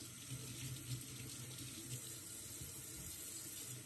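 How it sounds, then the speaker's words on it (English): Water runs steadily from a tap into a sink as hands are washed beneath it, a continuous close splashing flow with no talk. "Wash my hands."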